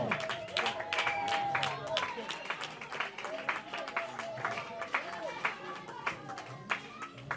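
A crowd at a customary wedding claps continuously while voices and singing carry over the top, the clapping moderately loud and uneven.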